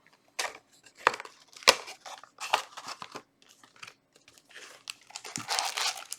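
Foil wrapper of a Yu-Gi-Oh Age of Overlord booster pack torn and crinkled open up close, a run of sharp rips and crackling bursts with short quiet gaps, ending in a longer rustle.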